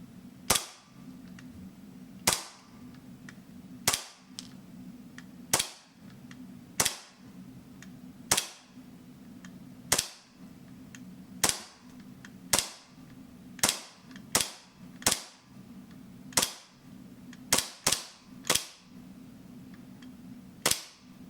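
An EMG Pit Viper gel blaster fires about fifteen sharp, loud shots over a chronograph at uneven intervals, some spaced seconds apart and some in quick pairs, with a steady low hum between them.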